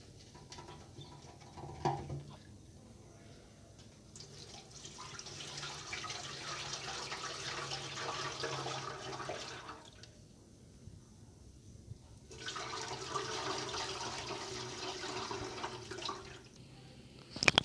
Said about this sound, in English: clearly rinse off the tank because the soap powder doesn't allow the electrolysis process to go on easily